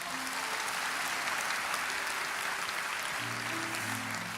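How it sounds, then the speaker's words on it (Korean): Sustained applause from a church dawn prayer service audience at an award ceremony, a dense even clapping that continues throughout, with faint tonal sounds underneath toward the end. "이제 주께 박수로 크게 환영해 주세요"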